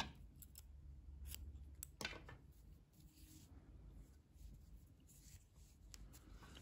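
Scissors cutting knitting yarn at the end of a knitted shorts-skirt: a few faint, quick snips near the start and around two seconds, then soft handling noise.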